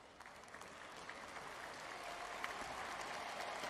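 Crowd in a Japanese B.League basketball arena, Shiga Lakes against Hiroshima Dragonflies, applauding steadily at a moderate distance, the clapping swelling slightly toward the end.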